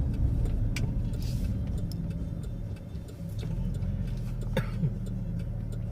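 A car drives along a country back road, with a low steady engine hum and road rumble up close and a few faint ticks and clicks from inside the vehicle.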